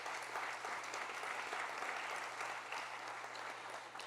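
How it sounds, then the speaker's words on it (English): A crowd at a 30th anniversary gala applauds continuously, a thick even patter of many hands heard from within the room, steady and unbroken, with a low electrical hum beneath. "That deserves a round of applause."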